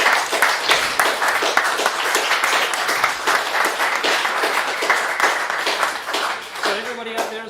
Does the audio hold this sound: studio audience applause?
yes